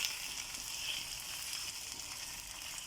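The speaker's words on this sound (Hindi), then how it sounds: "अब हम चिकन को फ्राई करेंगे" Chicken pieces frying in a pan for chicken karahi, a steady close hiss and crackle of hot oil throughout, fairly quiet, with no voices.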